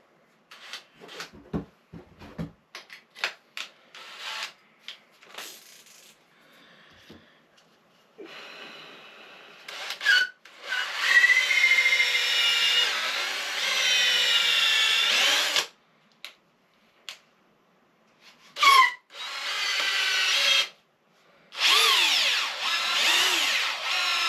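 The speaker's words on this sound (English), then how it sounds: "switch to the extra large reamer" A power drill turns an extra large reamer in a workshop build, giving repeated whining bursts of drilling separated by short pauses and clicks, loud and close, with a few breaths between runs.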